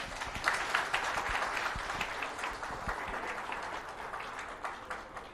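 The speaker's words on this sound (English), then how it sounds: "Big round of applause for him." Audience applause following a presentation on river development attended by a chief minister, a steady wash of many hands clapping at moderate loudness that gradually eases off over a few seconds.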